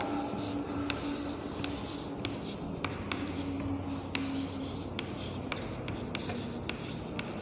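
Handwriting with a pen or pencil on paper, quiet close scratching strokes in a steady rhythm with small taps, continuing alone throughout.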